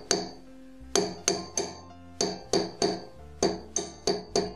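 A hammer strikes a wire ear wire on a hard metal block to harden it, about a dozen sharp, ringing metallic taps in uneven bursts, close and alone.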